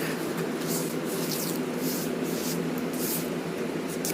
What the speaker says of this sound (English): spray a little more glue on that section there